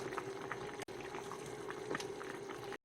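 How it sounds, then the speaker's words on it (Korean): Korean taro and beef soup bubbles steadily in a pot on the stove, a soft continuous simmering fizz with small pops, faint and close, broken by two brief gaps. "해서 한 소끔만 더 끓여줘."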